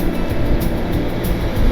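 A train rolls past alongside a road between Pasuruan and Probolinggo in East Java, a loud, continuous low rumble with rhythmic clacking bursts, heard up close from a moving motorbike.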